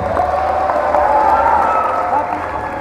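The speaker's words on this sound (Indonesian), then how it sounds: "Tepuk tangan untuk Fadil." Audience applause at a live Islamic lecture, a sustained burst of clapping from a crowd lasting a few seconds, with a voice audible over it.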